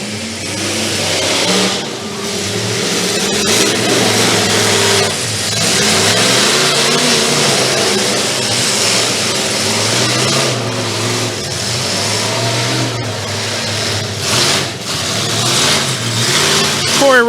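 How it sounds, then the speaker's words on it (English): Corey Roman's race truck roars around a dirt track at a county fair night race, engine loud and continuous with repeated revving surges and throttle lifts, crowd and other motors blended underneath. "Corey Roman's truck is just running so cool right now."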